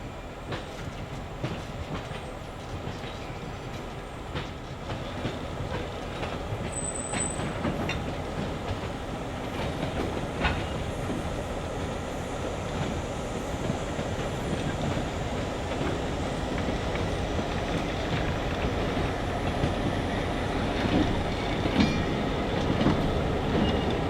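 A Fairbanks-Morse Trainmaster diesel locomotive shoves its short train steadily past at close range, wheels clacking over rail joints amid a continuous rumbling roar that slowly builds.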